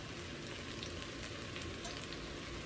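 Garlic sizzles in a hot pan, a steady close frying hiss that holds evenly without breaks and with no talk.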